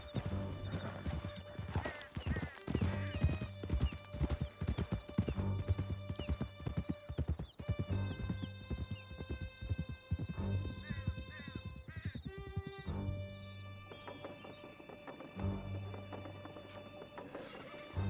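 Horse hooves clip-clop at a gallop in Red Dead Redemption II, rhythmic and steady across the whole stretch, with tonal music and occasional whinnies layered over the hoofbeats.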